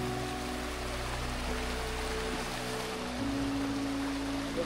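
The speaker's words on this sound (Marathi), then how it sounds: "पाण्याचा प्रवाह तुम्ही पाहू शकता" Water rushes steadily along a rocky stream on the way to a Konkan waterfall, an even, continuous wash with a faint low hum beneath it.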